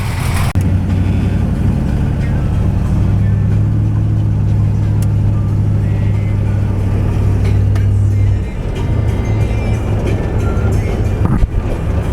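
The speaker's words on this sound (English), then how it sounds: "Oh, I'm going shotgun with Ben in the Chevy" A Chevy car drives along with a loud, steady low engine drone heard from inside, which eases off after a few seconds and is followed by a few faint knocks near the end.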